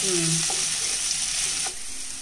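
Bottle gourd sizzles and fries in hot oil, a steady crackling hiss with a couple of brief stirring clinks, close and fairly quiet.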